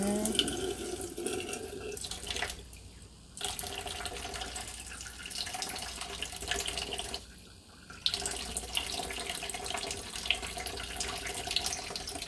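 Water runs steadily from a tap, close and moderately loud, briefly interrupted twice as the flow is shifted or stopped.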